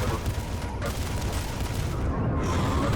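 Rocket explosions in a fast multiplayer arena video game make dense, overlapping booms and blasts, a loud, continuous barrage that fills the whole stretch of a few seconds.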